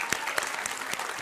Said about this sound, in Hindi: आज की ऑडियंस के लिए एक बार ताली बज जाए भाई।